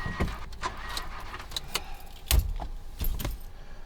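Keys jangle close by in a car as someone tries and fails to start it, with a few sharp metallic rattles and knocks and no engine catching.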